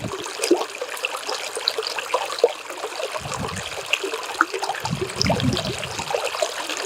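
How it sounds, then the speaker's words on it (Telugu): Steady rushing water resembling a waterfall, a continuous bright splashing wash with scattered droplet patters and occasional low surging bursts, heard alone without any voices. "జలపాతంలో వచ్చేటువంటి సౌండ్ ఏదైతే ఉంటుందో,"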